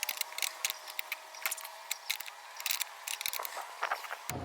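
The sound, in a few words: wrench removing nuts from brake master cylinder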